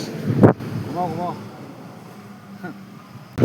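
Steady low wind rumbles and buffets the microphone throughout, with a brief voice-like whistle in the middle and a couple of sharp thumps.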